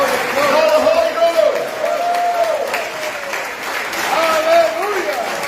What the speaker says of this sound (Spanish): Levanta ese aplauso 30 segundos y bendiga a Dios en esta noche